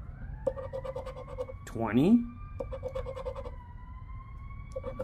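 A siren wails steadily in the distance, its tone slowly rising, while a person talks nearby and a brief scraping sound cuts in.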